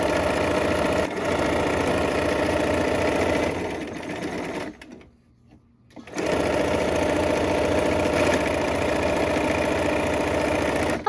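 Sewing machine stitching fabric in a rapid, steady whir close by, stopping for about a second midway before resuming at the same pace, with no talk.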